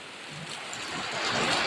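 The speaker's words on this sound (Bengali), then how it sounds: "দেখতেই পাচ্ছ কেমন বৃষ্টি হচ্ছে আমাদের এখানে" Steady rain falling outdoors, a broad even hiss that swells slightly louder toward the end, with no voices.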